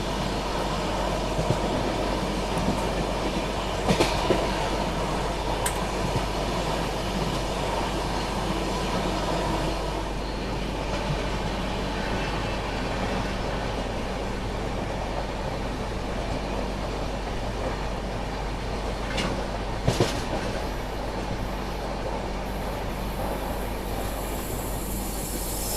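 Bangalore Rajdhani Express train running on rails, a steady rumbling roll with wheel clatter and a few sharp clanks, continuous and fairly loud throughout with no talking.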